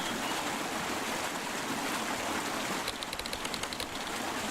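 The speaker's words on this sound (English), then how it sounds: "A nice waterfall over there." Steady rushing water of a waterfall in the video game Drowning, a constant broadband splash, with a brief patter of small clicking sounds near the end and no voices.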